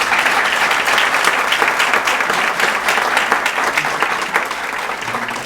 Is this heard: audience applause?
yes